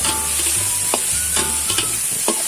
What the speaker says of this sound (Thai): จะผัดไฟแรงเลยนะครับ มันจะแห้ง ๆเห็ดมันสุกง่ายอยู่แล้วนะครับ